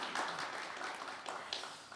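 Conference audience at a formal opening ceremony applauds, brief and fairly quiet clapping with individual claps standing out from a thin spread of hands.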